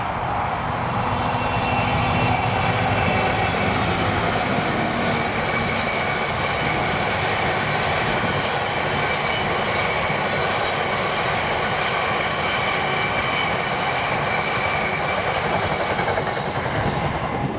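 A freight train hauling oil tanks in Scotland rumbles past close by, a loud, continuous roar of wagons and wheels on rail that holds steady throughout.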